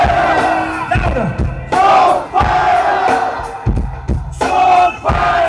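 A large crowd at a concert in Papua New Guinea chanting "soul, fire" in loud, rhythmic bursts, voices surging and dropping in call-and-response waves.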